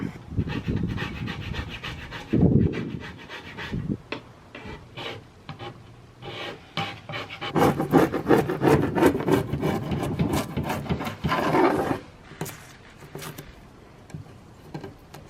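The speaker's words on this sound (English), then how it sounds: "I've been literally trying to scrape the crap out of the top" Old finish is scraped off the wooden top of an antique nightstand in rough, uneven bursts, with dense rasping strokes growing busier midway, close and moderately loud.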